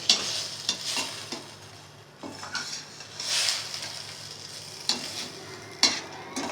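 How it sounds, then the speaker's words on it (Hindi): Fried potato chips are stirred into chilli sauce in a pan, with close scraping and sharp clinks from the spoon over a soft sizzle, in uneven bursts and without talk. "अब हम इसमें चिप्स ऐड करेंगे जो हमने फ्राई की थी, और फ्लेम कर देंगे ऑफ, और इसको अच्छे से मिक्स कर लेंगे"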